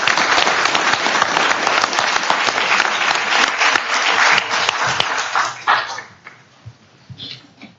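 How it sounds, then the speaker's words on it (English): Audience applause at a city council meeting in Clayton, California, a loud dense clapping that runs for several seconds, then thins into scattered claps and fades. "let's give him one more round of applause"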